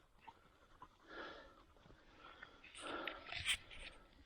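A hunting dog on a rabbit hunt sniffs and pants in soft bursts close by, with quiet rustling and a brief whimpering squeak near the end.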